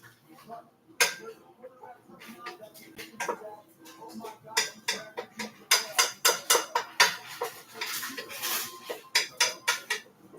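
Metal spoon stirring and scraping sautéed chicken taco soup in a pot, giving repeated sharp clinks and knocks against the sides, close and fairly loud, with faint background noise.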